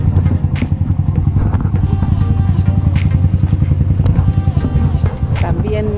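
A classic Kawasaki motorcycle idles close by at a village gathering of bikes, its engine a loud, steady low throb with rapid even pulsing that carries on throughout.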